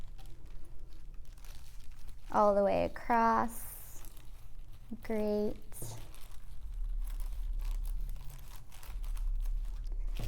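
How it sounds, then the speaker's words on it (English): Scissors snip and crinkle through the handle of a plastic shopping bag, soft rustling and crunching close by, while a person speaks briefly over it. "Take your scissors and cut the handle off."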